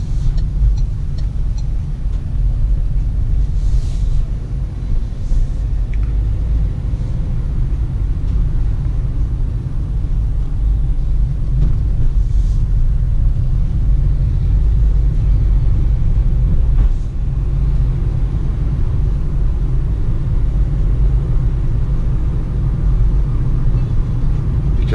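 Inside a new Peugeot Partner van while driving, a steady low road-and-engine rumble fills the cabin at a constant level throughout, with no one talking.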